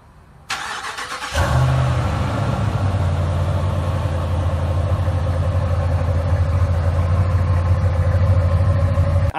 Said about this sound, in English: exhaust sounds fantastic on this truck, and I will insert a cold start clip here.